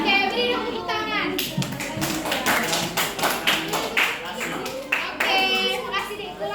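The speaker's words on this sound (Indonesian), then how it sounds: "beri dong tepuk tangan" Students in a classroom clap in a rhythmic burst while children's voices and a teacher's speech mix over and around the claps.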